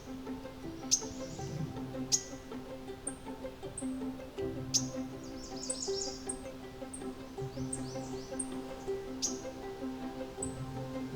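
A Mourning Warbler forages close by in a wooded setting. Sharp bright chirps and call notes ring out at intervals over a quiet background of faint rustling and distant birdsong.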